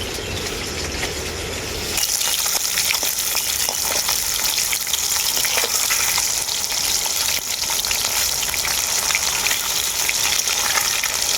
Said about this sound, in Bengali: সবটাই আমি পাল্টে পাল্টে ভেজে নিয়েছি